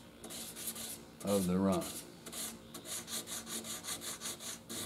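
Sandpaper rubbing a run out of motorcycle clear coat, a series of close, rhythmic scraping strokes in steady repetition after a brief moment of speech.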